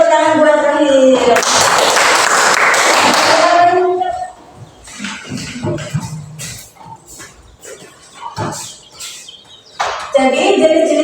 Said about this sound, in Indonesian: Beri tepuk tangan buat Rahim.